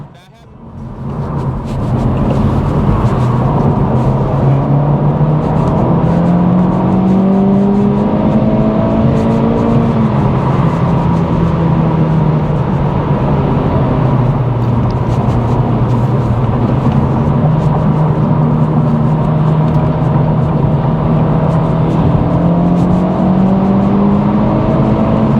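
A 2024 Acura Integra Type S at full throttle, the engine note rising steadily through the revs and shifting with a continuous loud intake and exhaust drone, heard from inside the car.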